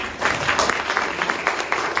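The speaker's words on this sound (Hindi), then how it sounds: "आप एक बार उन सब के लिए तालियां बजाएं" An audience at a mushaira and poetry gathering claps together in continuous, fairly loud applause with a slight rhythmic pulse, heard from the crowd and without speech over it.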